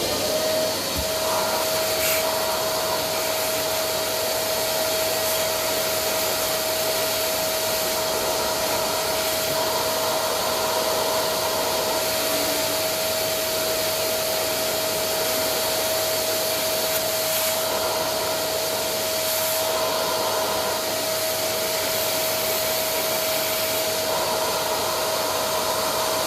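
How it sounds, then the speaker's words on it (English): A Hoover vacuum cleaner runs steadily for the whole stretch, a loud continuous whine and rush with a high steady tone on top, in a workshop where a 1954 Ferguson 20 TEF diesel tractor is being restored. "So I'll get her Hoover going as well."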